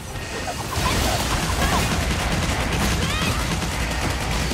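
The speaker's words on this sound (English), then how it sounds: "Okay, that's machine gun fire there." Machine gun fire in the video game Dragon Nest rattles on continuously as a dense, loud burst of rapid shots with crashing impacts, heavy enough to mask other game sounds.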